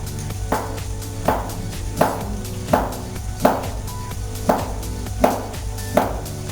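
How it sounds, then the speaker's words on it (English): Knife chopping through tagliatelle pasta dough on a board in Italy, crisp evenly spaced thumps about every three quarters of a second, close over a low steady background hum. "So now she's going to cut the dough"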